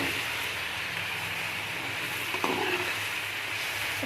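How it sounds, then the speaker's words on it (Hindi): Chicken coated in garlic ginger paste sizzles steadily in a karahi over high heat, a close continuous frying hiss with a brief stirring scrape partway through. "अब इसकी हम 2 से 3 मिनट तक भुनाई करेंगे"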